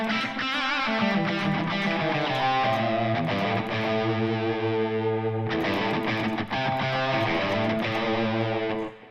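Electric guitar played through an IK Multimedia TONEX pedal with reverb switched on, sustained distorted chords ringing continuously with a brief pause mid-way, loud and close, no talking.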